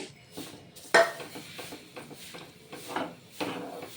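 A hand whisk works through thick batter in a bowl, producing uneven clinks and scraping knocks against the sides, with one sharper clack early on and softer rhythmic strokes after.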